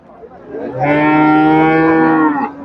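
A Friesian bull lows at a busy cattle market, one long, loud, drawn-out moo that swells and then fades near the microphone, with no talking over it.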